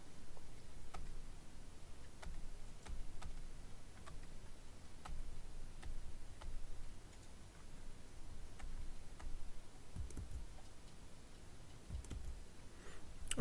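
Calculator keys pressed to type in a function, a series of faint, sharp plastic clicks spaced irregularly over quiet background, close and soft, no talking.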